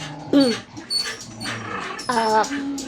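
Excited pet dogs whine, yip and make small growly whimpers up close in short bursts, with a person's voice talking among the noises.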